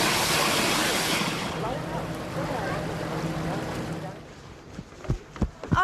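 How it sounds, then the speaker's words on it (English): A computerized geyser in a lodge's water feature erupts with a broad rushing hiss of steam and spraying water that gradually fades, followed by a few sharp splashes and knocks; no voices. "Oh, it's the geyser. It just erupted."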